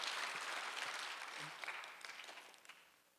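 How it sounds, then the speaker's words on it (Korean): A church congregation at a Sunday worship service claps briefly, a soft wash of many hands that fades gradually, heard at a distance and fairly quiet. "본 사람만 박수 한번 주세요"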